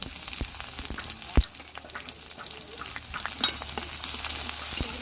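Green chilies and onion fry in oil with five-spice in a kadai, a steady close sizzle with occasional scraping stirs and sharp utensil knocks against the pan.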